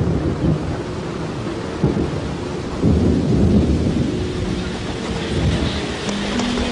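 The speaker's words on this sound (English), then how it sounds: "An afternoon shower diffuses the tension." Steady afternoon rain shower with deep rolling thunder over a gorilla's forest clearing, a continuous loud wash of rainfall with rumbles swelling midway, no voices.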